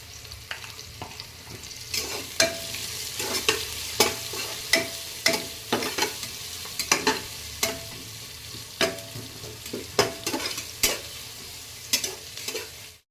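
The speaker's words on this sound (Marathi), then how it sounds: "कांदा परतून घेण्यासाठी आपण थोडंसं मीठ टाकायचं आहे." Onion sautés in a pan with a little salt for masale bhaat, a steady quiet sizzle broken by frequent sharp scraping clinks of a spoon stirring against the pan in an irregular rhythm.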